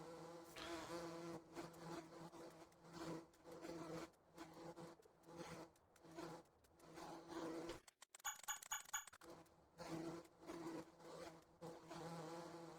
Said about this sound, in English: as soon as we start putting these in here, you can hear the bees start flying around